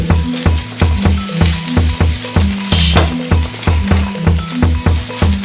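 Chopped green chillies hit a hot pan of Punjabi Amritsari chicken masala gravy with Kashmiri chilli powder and burst into a loud, steady sizzle, with a repeating rhythmic pulse through it.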